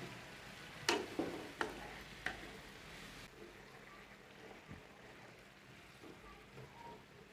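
Chicken with green chillies and lemon is turned and stirred on a hot tawa, a few sharp metal scrapes and clanks early on over a faint, steady background sizzle that settles into quieter frying.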